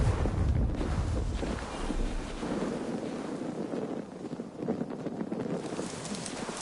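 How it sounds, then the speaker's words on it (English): Stormy wind blows over open sea in the video game Assassin's Creed Valhalla, a continuous rushing and gusting roar with water wash beneath, steady and moderately loud throughout. "Storm brewing there."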